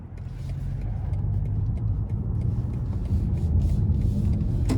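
BMW i5 M60 electric car on a 2024 test drive, a steady low road and motor hum with tyre noise that swells slightly toward the end, heard from inside the cabin with no talk.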